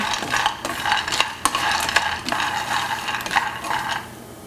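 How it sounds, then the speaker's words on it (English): Peanuts roasting in a pan being stirred continually, with a steady scraping and rattling of nuts against the metal, punctuated by a few sharper clicks, close and moderately loud with no voices. "you just got to make sure that you are continually moving the peanuts around"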